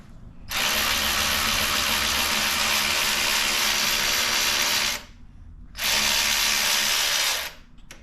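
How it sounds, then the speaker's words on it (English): An electric Hercules ratchet spins out caliper bolts on a 2015 Toyota Highlander during a front brake job, two loud whirring runs of about four and two seconds with a brief pause between, close and without talk. "now I'm going to take them off with my electric Hercules ratchet"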